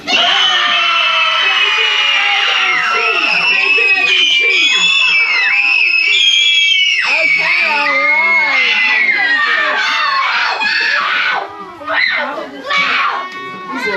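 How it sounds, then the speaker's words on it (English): A group of children at a rainy-day birthday party yell their favorite colors all at once, a loud, dense overlapping burst of high shrieks and shouts that holds steady for about eleven seconds before breaking into scattered calls. "On 3, I need everybody to yell their favorite color super duper loud."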